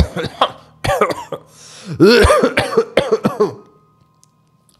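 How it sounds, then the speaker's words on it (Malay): Someone nearby coughs repeatedly in rough, uneven bursts with strained throat sounds, fairly loud, trailing off into quiet at the end. "Suara orang macam batuk"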